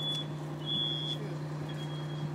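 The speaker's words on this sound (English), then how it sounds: "Obviously the smoke alarms have gone off by now." A smoke alarm's thin, high electronic tone sounds in short, faint intermittent beeps over a steady low hum during a fire demonstration.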